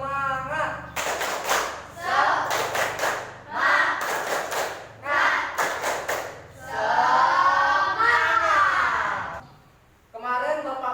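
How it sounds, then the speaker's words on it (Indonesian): A school class performs a rhythmic spirit clap as an ice-breaker, with bursts of synchronized clapping and chanted voices alternating in a patterned rhythm, loud and close, ending with a brief final clap. "Tepuk semangat."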